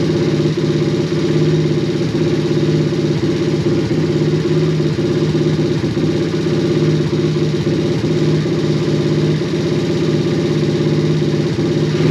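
A motorcycle engine idles steadily in a garage, a loud, even throbbing hum that holds without revving for the whole stretch, with no talking.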